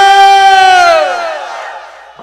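A large crowd at a Bengali religious gathering in Cumilla shouts a chanted takbir response in unison, one loud, sustained, tonal call that gradually falls in pitch and fades over about two seconds.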